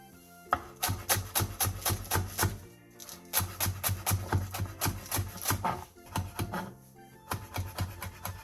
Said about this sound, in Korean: 청양고추 2개와 홍고추 2분의 1개를 어슷 썰고 대파 2분의 1개는 쫑쫑 썰어주세요